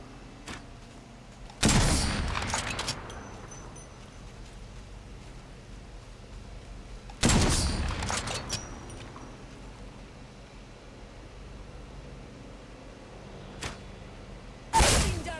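Three loud, sharp blasts of video game gunfire, widely spaced and each trailing off in a brief echoing decay, with a faint fourth crack between the last two, over quiet background.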